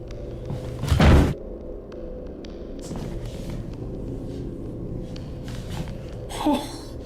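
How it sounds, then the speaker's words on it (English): A single heavy thud like a door banging shut, somewhat distant, standing out once against a low rumbling background, with a softer knock near the end. "Then what sounds like a door bang is heard."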